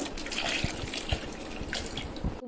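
Water runs and splashes into a pressure cooker holding cut tapioca pieces, a close, continuous pour with irregular drips and small thuds, ending abruptly.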